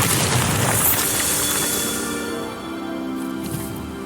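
A Bombarda spell going off in Hogwarts Legacy, a loud, broad blast that fills the first couple of seconds and then tails off into a lower rumbling decay with lingering tonal debris, heard alone without talk.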